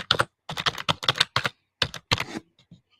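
Close computer keyboard typing in quick bursts of key clacks, with a brief pause partway through, heard alone without voices and trailing off at the end.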